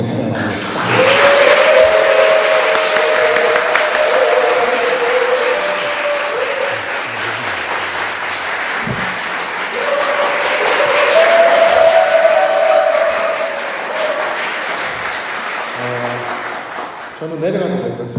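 Audience applause at a church revival meeting, a sustained wash of clapping that swells twice and carries on for most of the stretch, with a tonal hum or music underneath and talk from the platform.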